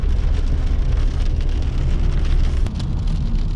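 Rain falls outdoors, a steady dense hiss with a low rumble underneath that holds at an even level throughout, with no voices.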